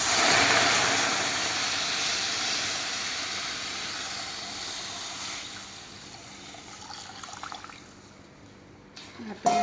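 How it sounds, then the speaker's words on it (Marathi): Milk hitting a pan of roasted rice set on a low flame for sweet rice kheer, a broad hissing, steaming rush at first that gradually fades, ending in faint bubbling and a few clinks. "आता यात आपण दूध घालणार आहोत."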